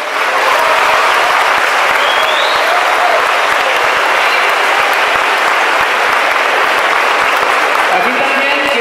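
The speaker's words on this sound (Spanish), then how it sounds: "Pido un fuerte aplauso para ellos." A school audience applauds prize-winning students who placed second in a state prototype competition, a dense, steady wash of clapping that holds loud throughout with no break.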